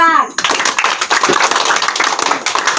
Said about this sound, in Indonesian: Tepuk tangan kepada kelompok 4.